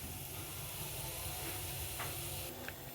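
Urad dal and chana dal frying in oil, a faint steady sizzle and hiss heard close with a few light stirring touches.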